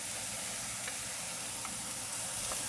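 Onions and ham frying in clarified butter in a hot pan, a steady close sizzle with a few faint taps as the food is stirred.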